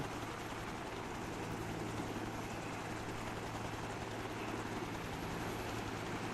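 A continuous, steady Chinook helicopter rotor drone with low engine hum in the video game ArmA, fairly faint and unchanging throughout, no voices.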